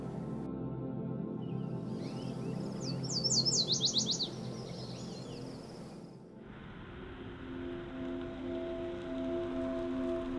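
Wild birds at Iona Island Bird Observatory give a quick burst of high chirps and twitters midway, faint over a steady low outdoor rumble with light rain-like hiss.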